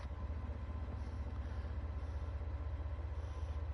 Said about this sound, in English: Train coming in or going out there